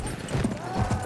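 A horse's hooves clip-clop in a video game, a quick, muffled run of hoofbeats within a busy game soundscape, heard briefly and at moderate volume.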